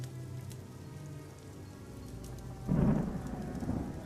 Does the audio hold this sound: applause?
no